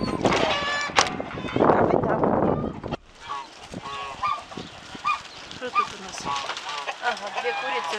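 Hens in a village coop give loud honking squawks and clucks, close and overlapping at first, then scattered softer clucking while someone talks.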